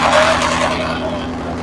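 A 2024 Ford Mustang GT with a full Milltek active exhaust, running on a dyno and heard from outside, gives a loud, steady exhaust roar that eases slightly toward the end.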